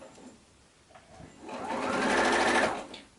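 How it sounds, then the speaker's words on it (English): A sewing machine stitches fabric for a quilted pillow cover, a soft buzzing whir that starts quietly, swells into a sustained run for about a second and a half, then tapers off, heard nearby with no talking. "as I'm sewing here now, I'm pushing that fabric a little bit"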